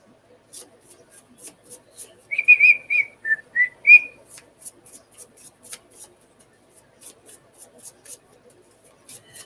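A person whistles a short melodic tune while working, clear and close, over a steady run of light clicking and tapping sounds from the work.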